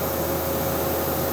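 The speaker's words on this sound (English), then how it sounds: "Now I'm coming down with a 93 thou end mill, and I'm just doing a very tight little boring operation." A 0.093-inch end mill performs a tight little boring operation on a milling machine, a steady close hum with a thin constant tone over dense noise, no voices.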